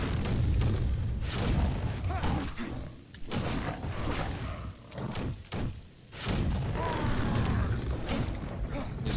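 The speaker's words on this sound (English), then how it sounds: "The gate is getting destroyed as we speak." Catapult battering a castle gate during a siege in The Lord of the Rings: The Two Towers on PS2, with heavy booming thuds and crashing impacts over a dense, continuous battle din.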